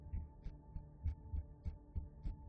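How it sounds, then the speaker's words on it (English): A slow, regular heartbeat thumps in evenly spaced double beats, low and muffled, about two per second, loud and close with nothing else over it. "Are they playing the heartbeat thing?"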